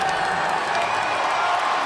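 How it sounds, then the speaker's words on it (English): A packed stadium crowd roars continuously before kickoff of an Alabama at Florida college football game, a dense, steady wall of cheering with faint whoops rising through it. "I know one thing, the crowd's not calm."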